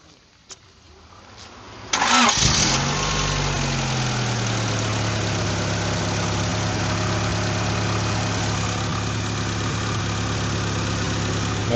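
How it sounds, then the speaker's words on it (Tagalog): A 1990 Honda Accord EX engine cranks briefly, catches and settles into a steady, even idle that runs on for around ten seconds, with a faint sound just before the start. "Pa-start naman, marinig natin yung makina."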